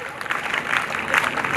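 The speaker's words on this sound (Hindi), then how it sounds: "वीरांगना ताली" An audience at a girls' character-building camp convocation in Agra claps loudly and steadily, a dense burst of applause from a crowd for a short stretch.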